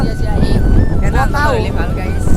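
Strong gusts of wind buffet the microphone outdoors in Nalbari, Assam, during a cycling outing, producing a loud, low, ragged rumble that runs throughout while a person speaks over it.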